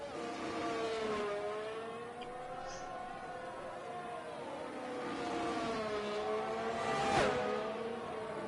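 A McLaren Formula 1 car in the F1 2022 racing game at Bahrain sends out a high, steady engine whine whose pitch sweeps up and down through gear changes, swelling near the end of the run.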